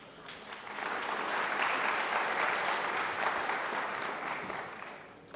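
An audience at a university graduation ceremony in Timișoara breaks into applause. The dense clapping swells from quiet, holds steady and full for several seconds, then tapers off.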